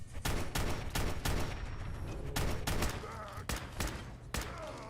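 Repeated bursts of gunfire in a Fallout 4 fight, sharp loud shots in irregular clusters ringing out one after another with brief gaps between them.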